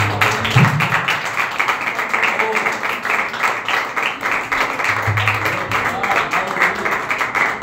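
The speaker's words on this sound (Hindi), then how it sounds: "जोरदार ताली बजाएंगे।" A church congregation gives loud sustained applause, a dense, even clatter of clapping hands with voices mixed in.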